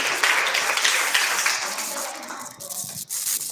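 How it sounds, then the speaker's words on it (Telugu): An audience applauds at a Sunday school Christmas program, a dense wash of clapping that swells, then thins and fades near the end. "క్లాప్స్ కొడు."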